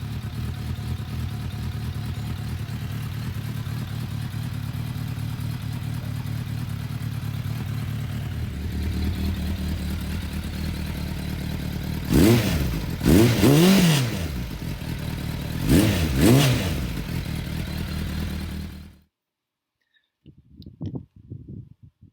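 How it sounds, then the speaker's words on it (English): A dark blue motorcycle engine idling steadily nearby, then blipped in three or four sharp revs that rise and fall, before it cuts off abruptly and leaves faint clatter. "It's just a little sneak preview of my new motorcycle."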